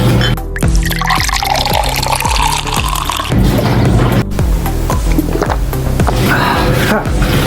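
Liquor pours and gurgles into a shot glass at an outdoor grilling gathering, with wet glugging and dripping sounds over a rhythmic low thumping background, close and fairly loud.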